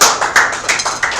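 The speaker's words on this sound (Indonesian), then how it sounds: "kita kasih aplaus semuanya" Classroom group applause for a presenting group, a short burst of several loud, close claps in a quick uneven rhythm.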